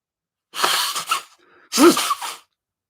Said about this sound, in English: Now I'm actually going to feel into a sneeze.